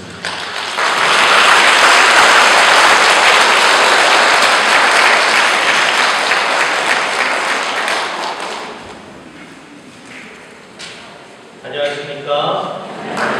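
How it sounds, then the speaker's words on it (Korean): A large audience at a Lenten lecture welcomes a priest with loud, sustained applause that swells, holds for several seconds, then fades out, followed by scattered taps and a voice starting to speak near the end. "큰 박수로 신부님을 모시겠습니다."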